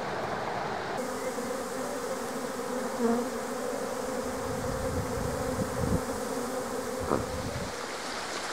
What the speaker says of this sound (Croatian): Evo Roki, aj ujela pčela